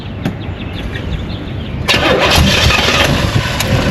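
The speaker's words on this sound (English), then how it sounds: "Let's hear this angry, angry V8 run" A V8 car engine cranks for a couple of seconds, then fires and catches with a loud, rough roar that settles into a heavy running rumble.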